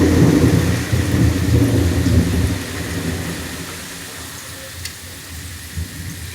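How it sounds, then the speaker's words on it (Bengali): Heavy rain pours steadily outdoors during a storm, with a deep rumble of thunder loud at first and slowly fading into a softer hiss of falling rain. "বৃষ্টি পড়ছে, প্রচুর পরিমাণ বিদ্যুৎ চমকাচ্ছে।"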